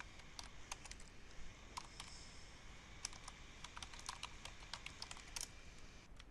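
Someone types a git command on a computer keyboard, with steady, quick, light key clicks in an uneven rhythm, close and quiet, with no one speaking.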